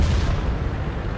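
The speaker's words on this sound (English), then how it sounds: "And the poor Cromwell gets blown up." A Cromwell tank blowing up in a World War II tank video game, a loud, dense low rumbling blast that stays heavy and sustained through the moment.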